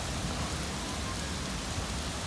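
Heavy rain pours steadily outdoors during a bass fishing trip in Houston, Texas, a dense continuous hiss with no voices over it.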